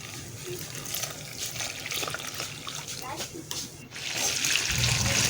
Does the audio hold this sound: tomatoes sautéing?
no